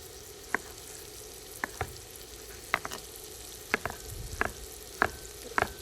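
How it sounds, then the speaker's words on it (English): A knife slices a whole, unpeeled eggplant into quarter-inch rounds, giving about eight crisp, evenly spaced cutting strokes, each heard close and clear over a quiet background with no voices. "we're going to slice it 1/4 inch thick"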